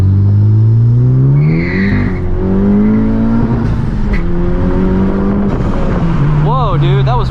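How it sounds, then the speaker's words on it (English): FK8 Honda Civic Type R pulls hard in second gear, its engine drone climbing steadily in pitch from inside the cabin, loud and continuous with a brief upshift-like dip and faint voices. "We're doing a second gear pull."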